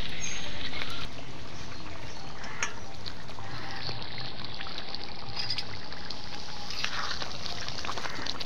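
Water is poured into a simmering egg curry, a brief splashy pour at the start giving way to a soft, continuous trickle and bubbling under faint background noise.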